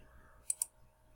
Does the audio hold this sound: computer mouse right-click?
yes